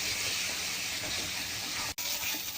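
Ginger garlic paste frying with onions in a pan for a rajma dish, a steady close sizzle and hiss that runs unbroken except for one brief dropout.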